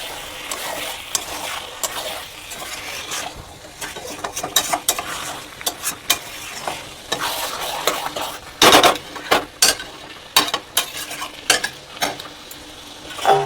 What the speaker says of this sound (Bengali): আবার আমি এটা খুলে একটু নেড়ে দেব।